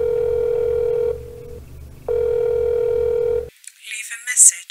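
A telephone call back rings out as a steady tone in two long bursts with a short gap, followed by a brief click and faint electronic noise at the end.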